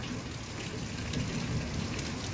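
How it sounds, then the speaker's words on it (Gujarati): Steady, dense rain with lightning pours down without a break in Halvad, Gujarat, a broad hiss of drops close by with no voices. "વીજળી સાથે વરસાદ ચાલુ છે"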